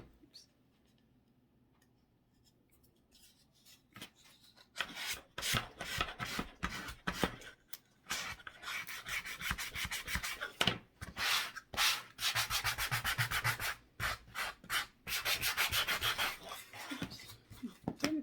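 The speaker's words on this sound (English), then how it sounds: "I'm just kind of sand the sides down just a little bit to make them a little smoother" Wooden crosses are hand-sanded along their edges nearby, a series of quick rasping strokes in uneven bursts, with short pauses between passes and no talking.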